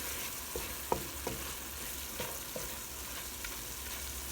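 A flour roux cooks in a pot for ham and potato soup, giving a steady soft sizzle with a few sharp stirring clicks and taps scattered through it. No one speaks.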